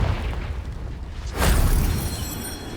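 A Confringo spell explodes in the video game Hogwarts Legacy: a loud, sudden boom bursts out of a rumbling background and then trails off into a fading roar.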